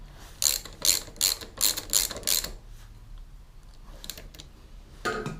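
A ratchet wrench tightens a bolt on a KLX 125 motorcycle, clicking in five quick bursts, then pausing before two fainter bursts of clicks, close up and with no talk.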